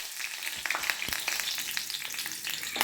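Fish fries in coconut oil in a hot pan, a moderate crackling sizzle with scattered sharp pops and spatters, steady throughout with no voices.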